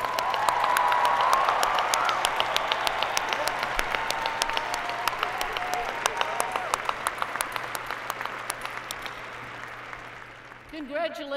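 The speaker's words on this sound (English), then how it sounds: "One more round of applause for all of our graduates." Applause for graduates at a winter commencement ceremony: a large crowd claps steadily, dense and sustained, slowly thinning toward the end as a voice begins speaking.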